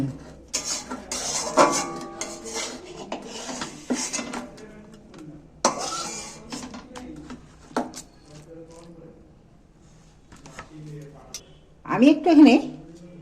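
Wilted cooked spinach is tipped onto a metal plate, giving a few clanking, scraping pot-and-plate knocks close by, scattered between stretches of someone talking.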